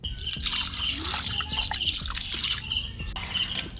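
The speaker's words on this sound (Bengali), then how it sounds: "মাছটা একটু ঘষে ঘষে খুব ভালো করে ধুয়ে নিচ্ছি।" Lote fish (Bombay duck) is rubbed and washed by hand in water, giving close splashing and trickling with small scrubbing knocks, and faint birdsong in the background.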